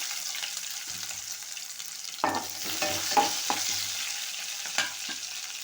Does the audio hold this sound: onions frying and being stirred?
yes